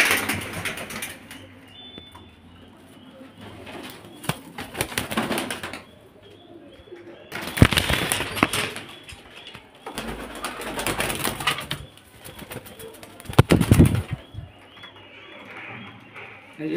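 Pigeons kept for sale coo and rustle in a loft, with soft repeated calls and bursts of wing flapping near the microphone while someone talks over them.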